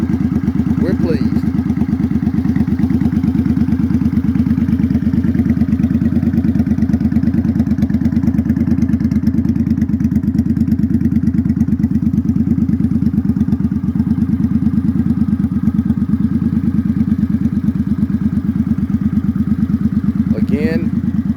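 A customized 2007 Suzuki Boulevard C50 motorcycle engine runs at a steady, rumbling idle, close and loud, continuous throughout with no clear revving.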